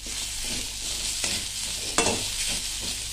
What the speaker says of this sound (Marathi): हिरव्या मिरच्या घातल्यात तर ते थोडंसं परतून घेतलं पाहिजे